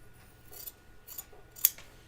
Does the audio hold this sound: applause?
no